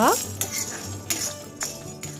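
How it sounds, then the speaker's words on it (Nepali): Soybeans and a red chili dry-roasting in a pan, with sharp metallic clinks and scrapes of a spoon stirring them, repeated at irregular intervals over a quiet background. "त्यसपछि मैले सोयाबिन 3 चम्चा जति र एउटा चाहिँ रातो खुर्सानीलाई यसरी भुट्दैछु।"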